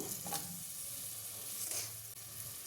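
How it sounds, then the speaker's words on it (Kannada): Two chopped onions in peanut oil sizzling inside a pressure cooker, a soft even sizzle with faint bursts, quiet and continuous with no voices over it. "ಕುಕ್ಕರಲ್ಲಿ ನಾಲ್ಕು ಸ್ಪೂನಷ್ಟು ಆಯಿಲ್ ಹಾಕ್ಕೊತಾ ಇದ್ದೀನಿ ನಾನು ಕಡಲೆಕಾಯಿ ಎಣ್ಣೆ ಯೂಸ್ ಮಾಡ್ತಾ ಇದ್ದೀನಿ ಇದಕ್ಕೆ ಎರಡು ಈರುಳ್ಳಿನ ಕಟ್ ಮಾಡಿ ಹಾಕ್ಕೊತಾ ಇದ್ದೀನಿ"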